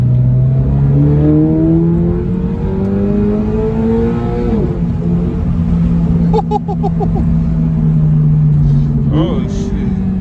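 A Toyota GR86 10th anniversary race car accelerates hard on canyon roads, its engine note rising steadily through a gear then shifting and climbing again, loud and close from inside the cabin.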